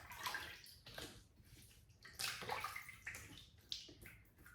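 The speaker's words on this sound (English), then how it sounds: "let's wet the face and get started" Water splashes and sloshes in a bowl as hands wet the face before shaving, a series of close, irregular splashing bursts and drips at fairly low volume with no talking.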